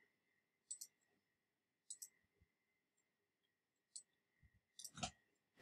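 Scattered keystrokes on a computer keyboard, a few quiet isolated clicks spaced out, then a short cluster of taps near the end, in an otherwise silent room.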